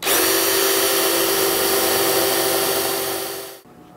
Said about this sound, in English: I'm just gonna countersink and set a couple of screws just to hold it in place